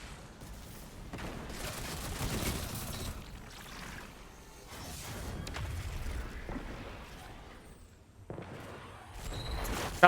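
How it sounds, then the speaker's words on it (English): Bursts of gunfire in a video game, several volleys and sharp shots spread across the stretch, fairly loud and close with brief gaps between, no talk over them. "I hear them shooting"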